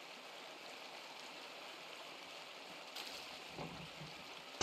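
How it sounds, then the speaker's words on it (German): A waterfall in the video game Pentiment gives a steady, faint, broadband rush of falling water, even and continuous throughout, with no voices over it. "Der Wasserfall ist immer wunderschön."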